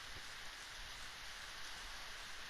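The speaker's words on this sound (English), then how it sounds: "I think it's actually raining at my house." Steady rain falls outside a house, a soft continuous hiss of drops heard faintly and evenly throughout, with no voices.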